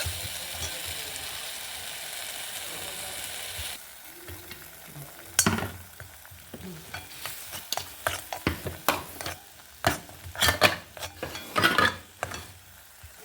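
Ground masala paste for a raw peanut gravy fries in a pan with a steady close sizzle, then turns into a run of sharp, irregular scraping stirs against the metal.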